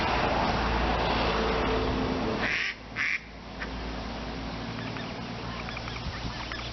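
Ducks quack faintly by a small village beck, set against steady outdoor background noise, with a brief louder quacking burst partway through.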